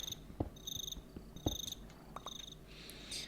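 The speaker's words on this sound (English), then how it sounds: "Just crickets always." Crickets chirp in a Minecraft modpack woodland scene, rapid pulsing trills repeating at a steady rhythm, with scattered soft clicks and taps, a brief rustle near the end, and no voices.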